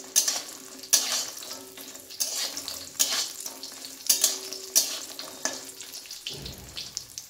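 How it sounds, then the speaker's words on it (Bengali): Lentil dumplings (bori) frying in hot oil for a cabbage dish, a steady sizzle broken by repeated scraping stirs of a spatula against the pan, close and moderately loud, with a duller clatter near the end and no talking. "আমি বড়িগুলোকে দিয়ে ভালোভাবে একটু লাল লাল করে ভেজে নেব"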